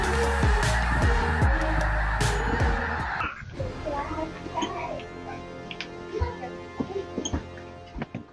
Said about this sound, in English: but for snow geese, this is when they create a spectacular sight.